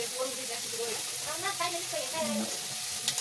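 Chopped onion with a pinch of turmeric frying in a pan at home, a steady close sizzle with light stirring scrapes and faint voices in the background.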